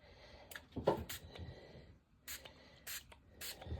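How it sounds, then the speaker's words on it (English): A bottle spritzing colour spray onto paper for a junk journal background, several short sharp pumps of mist, close and distinct, with quiet handling noises in between. "we're just gonna spritz this a little bit"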